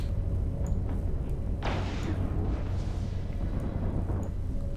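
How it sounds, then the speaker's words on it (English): Missile impacts in the EVE Online space game: a broad roaring burst swells up about a third of the way in and trails off over a steady low rumble of ambience, with fainter booms flickering behind it. "Those are my missiles coming in"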